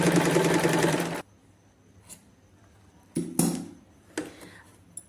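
A sewing machine stitches buckram into a blouse in one quick, close, rapid-fire burst of about a second. Scattered clicks and clinks of handling follow in near silence.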